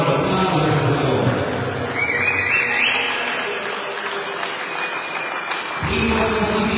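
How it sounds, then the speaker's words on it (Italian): Steady applause from an audience at an awards ceremony for the Sardinian Veterans event in Alghero, a continuous broadband clapping wash lasting throughout, with a brief voice over it. "Grandissimo lavoro, applauso per loro."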